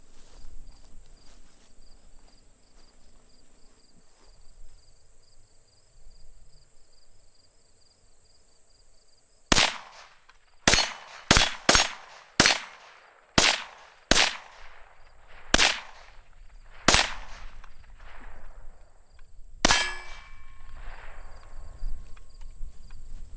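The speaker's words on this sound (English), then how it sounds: "I'm gonna go ahead and shoot a bunch of steel up close." A Rossi RS22M .22 Magnum rifle fires a rapid string of about ten shots at steel targets 15 yards away, crisp cracks with faint pings spaced roughly a second apart, after a quiet outdoor stretch with insects chirping.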